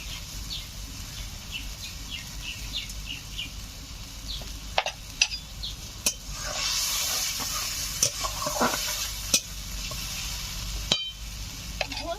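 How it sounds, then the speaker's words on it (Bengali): Amudi fish tamarind curry with salt, turmeric and sugar starts to boil in a pan, giving a steady low bubbling with scattered sharp clicks of utensils. Birds chirp faintly in the background. "ফুটতে শুরু করে দিয়েছে।"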